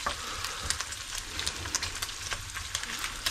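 Bacon frying crisp in a pan for a loaded baked garlic potato soup, a steady close sizzle with scattered pops and crackles throughout, no talking.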